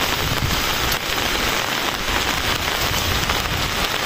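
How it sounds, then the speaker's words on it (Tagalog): Heavy rain pours steadily and loudly, a dense unbroken hiss of drops drumming on a surface nearby. "mas lalong lumakas yung ulan, no?"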